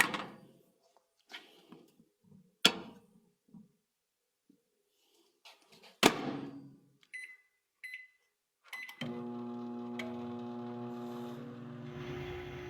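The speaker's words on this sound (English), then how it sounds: "I want to see what happens if I put it in the microwave." A microwave oven with a whole raw egg inside starts up with clicks and a beep, then settles into a steady, close electrical hum that runs alone to the end.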